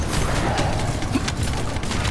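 Drone explosion in the video game The First Descendant, a dense burst of booming blasts and crackling gunfire-like pops filling the whole stretch at steady loudness.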